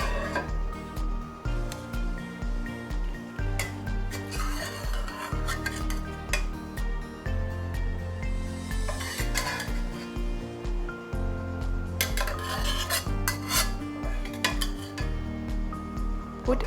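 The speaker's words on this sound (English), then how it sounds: "I'm going to transfer the salmon that has been fried over to the" Fried salmon scraped and tipped from a pan into a pot of rice, with utensils clinking and scraping against metal and a soft sizzle of oil, repeated knocks and clatters over a steady low hum, no voices.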